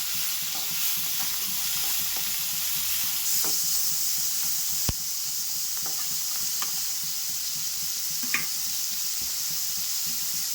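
Onions with salt fry in a pan for poori masala, a continuous close sizzle broken by occasional scraping and tapping stirs of a spoon against the pan.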